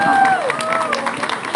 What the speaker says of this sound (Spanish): Con gusto le damos la palabra y un fuerte aplauso